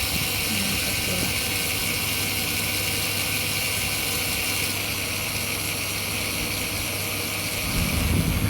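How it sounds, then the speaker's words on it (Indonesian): A small electric motor runs inside a speed-sensor test rig, giving a steady, close whirring drone with a constant hum that continues throughout with little change. "ketika kita menurunkan kecepatannya, maka motornya akan semakin pelan dan ketika kita atur sampai 0 akan berhenti."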